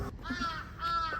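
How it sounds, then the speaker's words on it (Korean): A crow caws twice outdoors, two hoarse, nasal calls separated by a short gap, moderately near and clear against faint background noise. "까마귀는 어떻게 울어?"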